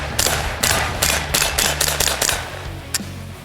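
A Ruger 10/22 rifle fires .22LR rounds in a rapid string of sharp, loud cracks, about a dozen close shots in quick succession, then one last shot after a pause.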